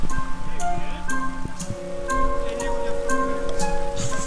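Steady rain pattering on a surface, with sharp drips and a faint tonal hum mixed into the constant wash.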